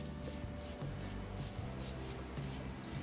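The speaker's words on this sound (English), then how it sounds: "I really like to drench myself in a setting spray." A setting spray mists onto a face in a quick series of short, evenly spaced hissing bursts, close and fairly loud, over a steady low rubbing background with no talk.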